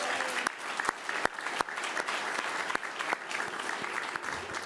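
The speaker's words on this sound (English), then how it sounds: "Let's give her a round of applause." A small crowd claps steadily for several seconds, the individual hand claps distinct and fairly close, without cheering.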